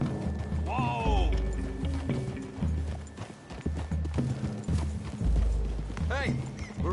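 Horses clip-clopping at a trot in the open-world western game Red Dead Redemption 2, a steady close hoof rhythm running throughout, with a whinny early on and characters talking over the hooves.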